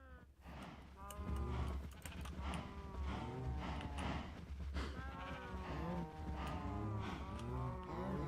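A herd of cows in the Minecraft video game moos over and over in overlapping, bleating calls over a steady low hum, some near and some farther off, with no talking.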